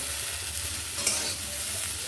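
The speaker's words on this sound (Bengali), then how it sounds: "ডাঁটাগুলোকে বেশ করে ভেজে নিয়েছি" Drumstick stems frying in oil in a pan, a steady close sizzle with soft crackle, continuous and moderately loud with no talk.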